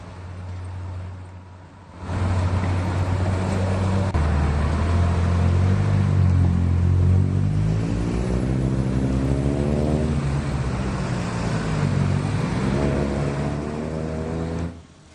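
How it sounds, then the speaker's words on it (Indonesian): Steady evening road traffic at Terminal Ledeng in Bandung, Indonesia, a continuous loud rumble of engines with a few vehicles accelerating and passing close by, running unbroken after a brief quieter start. "Lalu lintas di Terminal Ledeng, Kota Bandung ramai lancar pada Kamis malam."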